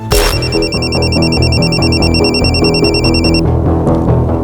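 A phone ringtone trills loudly in a steady repeating electronic pattern, then cuts off abruptly near the end, leaving quiet room noise.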